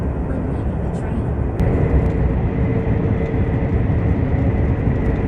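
Steady, loud rumble and rushing roar heard from inside a KTX/SRT high-speed train as it runs through Dongtan station without stopping, continuous throughout with a slight lift in level partway through.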